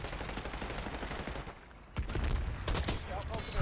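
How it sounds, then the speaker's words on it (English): Rapid gunfire in Black Ops 6, a dense stretch of close shots and bursts over a game background, with someone talking over part of it. "do really like the headshot noise in this game in Black Ops 6"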